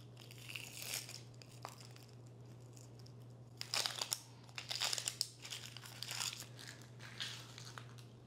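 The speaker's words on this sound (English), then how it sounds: "I hate peeling onions." Papery onion skin crackles and tears as it is peeled by hand in a kitchen for a cucumber and tomato salad: close, crisp crinkles and crunchy bursts, sparse at first and denser in the second half, with no talking.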